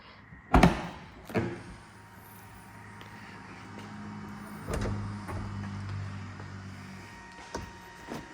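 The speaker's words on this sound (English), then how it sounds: "go ahead and pop this door open so we can take a look inside." The door of a Sling TSi aircraft fuselage under construction is popped open, giving a sharp latch click and a couple of thuds followed by a faint rattle, with quiet background hum between the knocks.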